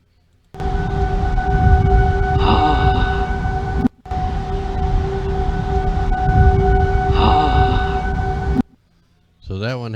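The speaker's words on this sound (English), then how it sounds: "sirens," Warning sirens sounding during a tornado outbreak, with steady wailing tones held loud for several seconds, a brief break, then continuing before cutting off, over a noisy rumbling background.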